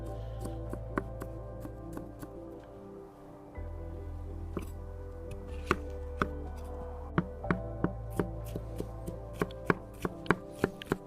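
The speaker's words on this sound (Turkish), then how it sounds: "Evet soğanlarımızı doğradık." Sharp knife strikes on a cutting board, chopping onions steadily and speeding into a quick rhythm, close up over a low steady hum, outdoors at a night campsite.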